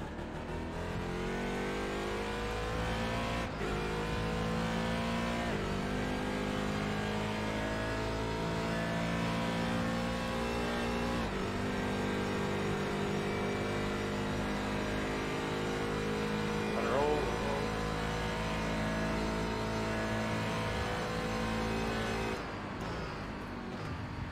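Race car engine in the iRacing sim at Daytona, loud and continuous, rising and falling in pitch through gear shifts and throttle lifts, alone without talk.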